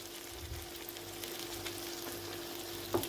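Dry beans being stirred into a pan with pepper paste and sauce, giving a steady soft sizzle with faint scraping throughout and a brief clink near the end.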